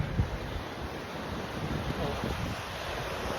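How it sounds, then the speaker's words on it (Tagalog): Heavy, continuous roar of rough sea waves churning close by in stormy weather, mixed with gusting wind buffeting the microphone, with no voices. "Sa lakas ng mga alon na yun, sa sungit ng panahon ng dagat"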